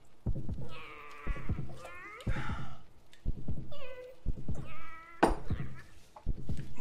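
A cat meows again and again close by: about six drawn-out, wavering cries in a steady rhythm over a low, pulsing background sound.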